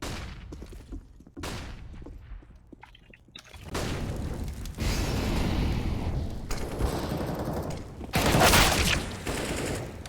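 Gunfire rings out during a professional CS:GO match on the Mirage map, including AWP sniper rifle shots. Scattered sharp reports and dense bursts build toward a loud cluster, with no voices.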